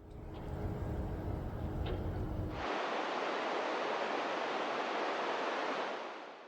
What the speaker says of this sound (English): accompanied by the sound of rushing rapids nearby